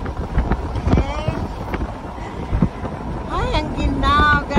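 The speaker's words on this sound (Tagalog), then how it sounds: "Grabe yung hangin. So windy." Strong wind gusting outdoors in cold Winnipeg, Manitoba, buffeting the microphone in low rumbling bursts, with someone speaking over it.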